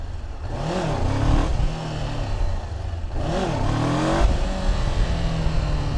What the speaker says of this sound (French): Vous pouvez aussi vous entraîner au début à juste popper les wheelings et direct refreiner avec le frein arrière.